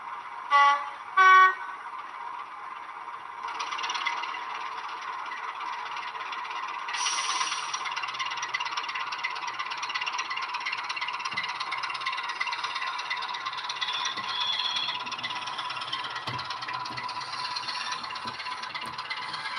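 Two short horn toots open, followed by a steady mechanical hum and rattling of a small model railway locomotive running continuously, fairly close with no talking.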